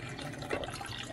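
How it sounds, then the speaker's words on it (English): Hot water is poured into a kitchen bowl for pizza dough, giving a short, soft, steady splash and trickle close by. "let's go ahead and fill the bowl up with hot water"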